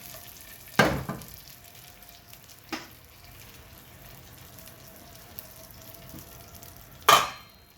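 Quiet, steady sizzling of spices frying in hot ghee, broken by a few sharper crackling bursts.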